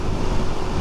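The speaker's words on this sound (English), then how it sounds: "A lot of wind, a lot of wind." Loud, steady wind buffeting a rider's microphone while riding a Suzuki DRZ400SM motorcycle, a brief constant roar with no talk.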